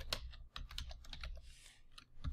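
Quick bursts of keystrokes clatter on a computer keyboard, close and fairly quiet, with brief pauses between runs of typing.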